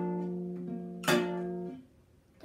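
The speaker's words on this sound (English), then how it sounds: "On the last string, which sounds like this" A single low guitar string rings out, steady and moderately loud, then a sharp pluck or strum attack cuts in before the tone fades to quiet.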